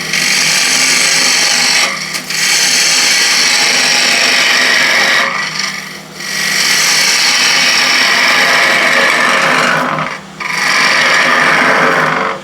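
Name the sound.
wood lathe turning ash box, leveling the top with a gouge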